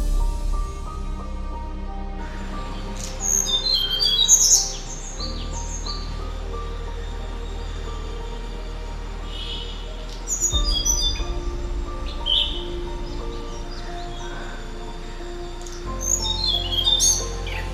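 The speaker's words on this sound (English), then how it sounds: "The Tickle's blue flycatcher is difficult to spot in the city but can be found" A Tickell's blue flycatcher gives short, bright chirping calls in scattered bursts, each a few seconds apart, over a steady, humming background.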